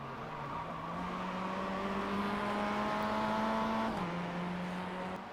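A Mazda MX-5 race car engine in the iRacing sim at Oulton Park drones steadily and loudly throughout, its pitch holding while it climbs gradually, then dropping briefly near the end as it shifts, with no talking.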